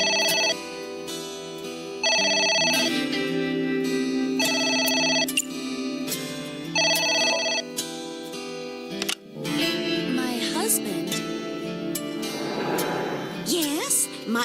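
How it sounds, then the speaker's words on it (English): A telephone rings repeatedly in AI: The Somnium Files, a game, with regular bursts of ringing over background music, followed by a louder, busier stretch of music or effects. "It's the phone. Maybe try picking it up?"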